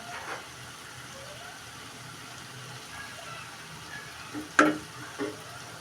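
Small fish fry with cumin powder in a pan, with a low, quiet sizzle and a couple of sharp stirring clatters near the end.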